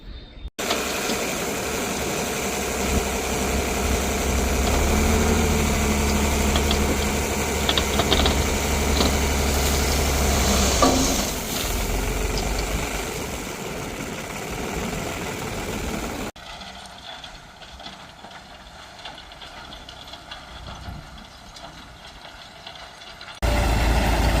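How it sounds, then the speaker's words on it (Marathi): A loud tractor engine idles steadily in a farm field with mechanical rattling, then the sound drops to a quieter, thinner rumble before surging loud again at the very end. "ते आता ट्रॅक्टरच्या सहाय्याने आपण वेचून घेणार आहोत तर ते आता मशीन येत आहे"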